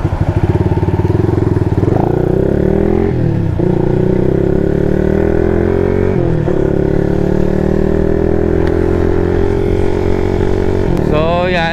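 A motorcycle engine hums steadily while riding, with pitch shifts at gear changes and a brief rev near the end, the bike under braking.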